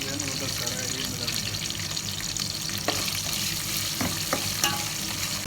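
Ginger frying in a pan gives a steady sizzle as it is stirred, with a few sharp scrapes and knocks of the utensil and running water nearby.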